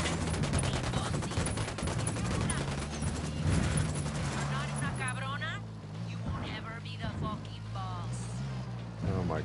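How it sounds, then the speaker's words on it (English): Rapid automatic gunfire rips through a cartel base in a stealth shooter video game, loud and dense for the first few seconds, then thins into scattered shots while voices talk over it. "I'm opening fire on these shitheads"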